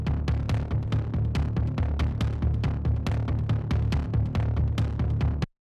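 Dry bass pulse from an epic hybrid trailer track with all effects removed: a tight, steady throbbing low rhythm with crisp regular transients, loud and unbroken until it cuts off at the close.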